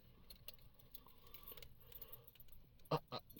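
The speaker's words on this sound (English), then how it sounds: "He gonna give me another set of keys" A set of vehicle keys jangles in two quick close bursts near the end, after a quiet stretch of faint room noise.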